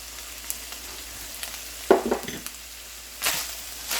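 Onions added to browned, drained ground beef sizzle and crackle in a hot pan, with a burst of stirring and a soft hiss that swells near the end, close and alone with no talk.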